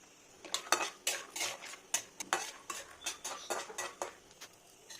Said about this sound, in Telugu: పల్లీలు వేయించి పక్కన పెట్టుకుందాం.